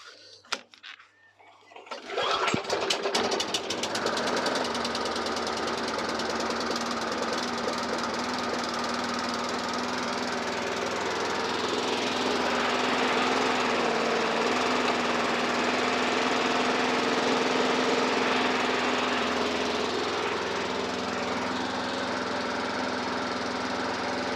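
A lawn mower in a shed, just refuelled, starts after a few sputters and then runs at a steady, loud, buzzing idle for over twenty seconds, close by and without talk.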